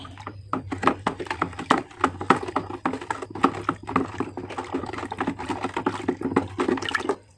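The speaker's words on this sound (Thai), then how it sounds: "ก็ใช้ไม้พาย คนนะคะ ให้น้ำตาลละลาย" A wooden paddle stirring sugar into a fermenting liquid, heard as irregular knocking and sloshing bursts close by, steady for several seconds over a low hum.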